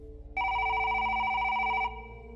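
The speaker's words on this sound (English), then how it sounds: "Suddenly, the phone rang." A telephone rings with a single loud electronic ring burst lasting over a second, set against faint background music.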